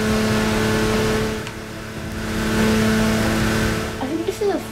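A race car engine in the Forza Motorsport 6 racing game drones and revs steadily, swelling and easing, with a faint tire squeal near the end and a voice talking over it.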